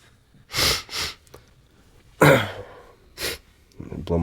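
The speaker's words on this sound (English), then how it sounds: "Blow my nose" Several short, forceful nasal blasts of someone blowing their nose, loud and close, with brief quiet gaps between bursts.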